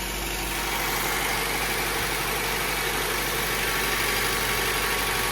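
A 1980 MGB engine idles while warming up in a garage. It gives a steady, close, even rumble that runs unchanged throughout.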